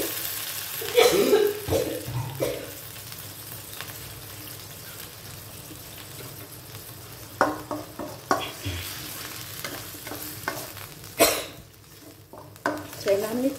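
Bamboo shoots and pork belly stir-fried in a pan with a steady sizzle, interrupted by scraping stirs and clanks of a utensil against the pan, with louder clattering bursts near the middle and end.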